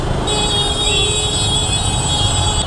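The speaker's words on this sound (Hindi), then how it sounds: "आज कितना ज़्यादा ट्रैफिक है" Steady heavy road traffic passes close by, a dense continuous roar of cars and motorcycle engines with a constant high whine above it, loud throughout with no pauses.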